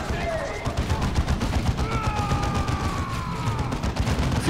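Sniper gunfire in the video game Dawn of War 2, a rapid dense clatter of shots under continuous battle noise, with whining tones sweeping over it and voices mixed in.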